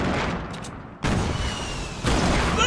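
Rocket launcher fire and explosions in the Fortnite video game, a dense barrage of blasts and gunfire with sharp bursts starting about a second in and again near two seconds, loud and continuous throughout.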